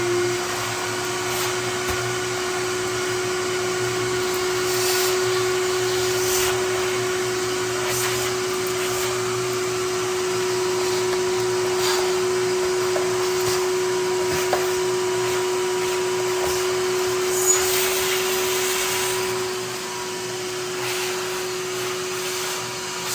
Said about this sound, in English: I'm just gonna vacuum them up real quick